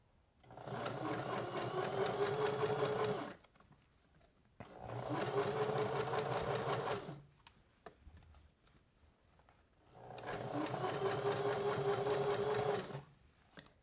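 A sewing machine stitches fabric for a card deck holder in three steady bursts of rapid mechanical whirring, each a few seconds long, separated by short quiet pauses.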